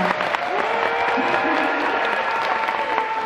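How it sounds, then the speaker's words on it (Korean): Steady, dense applause from a large audience at a film festival screening Q&A in Busan, continuous and loud throughout. "네, 큰 박수 부탁드립니다."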